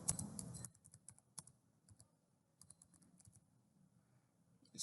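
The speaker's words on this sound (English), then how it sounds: "once I click and add that, I will type in the name" Keystrokes on a computer keyboard while software data is entered, a dense burst of clicks at the start, then sparse, quiet scattered key taps, close by.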